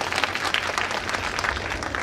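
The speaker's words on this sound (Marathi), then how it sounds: "मग टाळ्या कोण वाजवील?" An audience at a political campaign rally bursts into dense applause, with continuous clapping from many hands close by and no pause.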